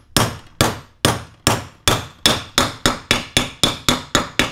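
A hammer taps an oil seal into a Muncie 4-speed transmission housing: about a dozen sharp metallic blows, loud and close, starting spaced and quickening into a fast even rhythm, with no talk.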